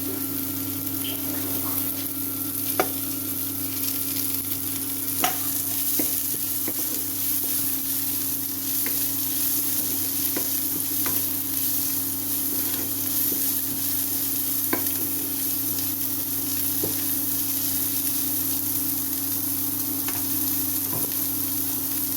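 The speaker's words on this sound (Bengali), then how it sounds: "এখন আমি কেটে রাখা ক্যাপসিকাম দিয়ে দেবো" Chopped capsicum sizzling steadily in a pan of onions fried until reddish-brown, with occasional scrapes and clicks of a stirring spoon over the continuous frying hiss, close and even throughout.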